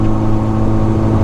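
A Lada Riva classic car's engine labours up a slight incline, a steady low droning hum with constant loudness and no break, heard from inside the car.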